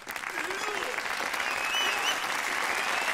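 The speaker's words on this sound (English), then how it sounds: "slow clap." A crowd of patrons applauds in the video game Yakuza 0, a dense, steady wash of clapping, fairly loud and sustained for the whole moment, with faint voices underneath.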